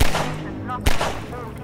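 Gunfire in the Half-Life 2 video game, two sharp loud shots about a second apart, each followed by a short decaying echo.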